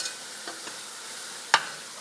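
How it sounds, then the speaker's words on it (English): Spinach, rice and crab stirred together in one pot, a soft steady scraping and sizzling with a single sharp knock of the spoon against the pot, close and without voices. "So you want to mix everything up just like this."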